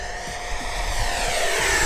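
An Alpha Jet 80mm EDF model jet makes a full power flyby over a grass field, its ducted fan whine and rushing roar swelling steadily louder and closer with a faint shift in pitch as it passes.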